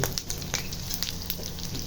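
Sliced pork belly (liempo) fries in hot oil, a dense continuous sizzle broken by sharp crackling pops, close and loud with no talking.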